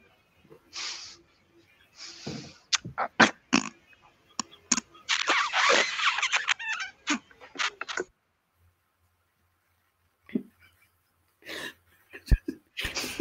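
A person coughs and splutters in short, loud bursts with gaps of silence between them, heard close up over a call.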